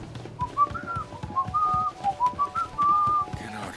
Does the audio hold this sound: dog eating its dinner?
no